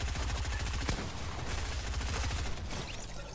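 Rapid automatic gunfire from the Fortnite video game rattles in a dense, continuous stream of loud shots, then cuts off near the end.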